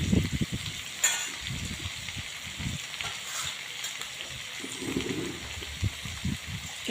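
Okra sizzling and crackling in hot oil in a pan, a steady close frying hiss with scattered pops and stirring scrapes throughout, no voices.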